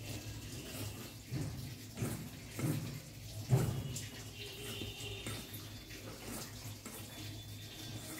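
Water is poured and splashed into flour while kneading dough for peas kochuri, with soft irregular sloshing and pouring bursts at moderate volume.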